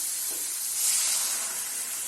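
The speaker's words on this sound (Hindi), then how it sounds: "अब इसमें हम पानी डाल देंगे।" Water poured into cooked masala in a hot pan for a dhaba-style egg curry gives a loud, steady hiss and sizzle that swells midway and then settles, with no one talking.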